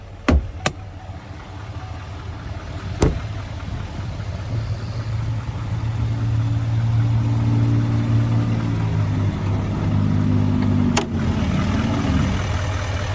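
Duramax 6.6 liter diesel engine of a 2021 Chevrolet Silverado 2500HD LTZ Carhartt, a steady idle that swells into a deeper drone midway, with a few sharp clicks near the start and near the end, no talk.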